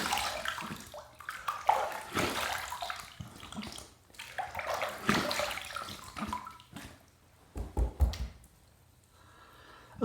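Tap water runs in uneven bursts and splashes as a vintage Gillette Trac II razor is rinsed after shaving, close by and fairly soft, stopping and starting with short pauses.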